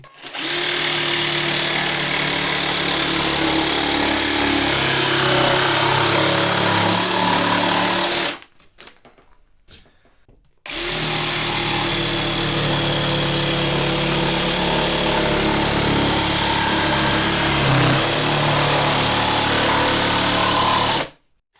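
A Peugeot cordless brushless jigsaw cuts curves through wood with a loud, steady buzzing rasp, pausing briefly for about two seconds midway before resuming a second long cut.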